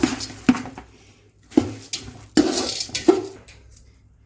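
Roasted gram, roasted sesame and cardamom powder are stirred together in a bowl for a sweet puffed-rice snack, giving irregular scraping strokes and light clattering against the vessel, close and fairly loud.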